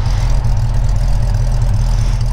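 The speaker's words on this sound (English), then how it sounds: "give it a couple little blips of throttle" Car engine running with exhaust through two pipes, a loud, deep, steady rumble throughout with slight pulsing, no distinct separate throttle peaks standing out.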